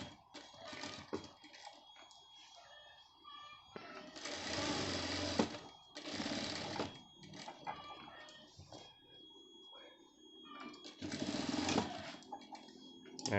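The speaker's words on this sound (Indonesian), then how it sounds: "jadi sekarang tinggal jahit kain sakunya" Sewing machine stitching a shirt pocket, several close bursts of rapid whirring separated by pauses, with quiet handling sounds between runs.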